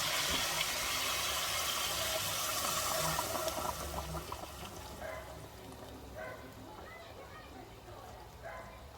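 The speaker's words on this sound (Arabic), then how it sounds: "واحط بقى الشوربه" Broth poured into a cooking pot for rice mandi, a steady splashing pour for several seconds that then tapers off, with someone talking over it.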